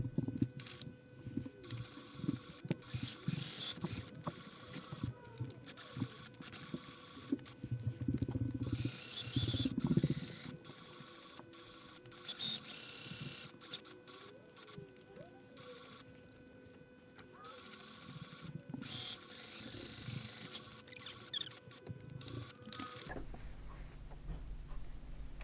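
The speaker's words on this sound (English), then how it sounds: "So I'll give it a sew." Sewing machine stitching quilting fabric, running in uneven bursts with a rapid mechanical ticking and whir that stops and restarts, close and moderately quiet, ending in a short pause.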